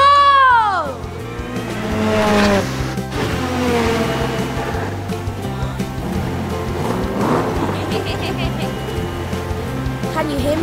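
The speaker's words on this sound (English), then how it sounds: "It's Chase Octane, the turbo car" A cartoon turbo race car speeds past with a rising and falling engine whine and squealing tires, set against bouncy music, with voices talking over it.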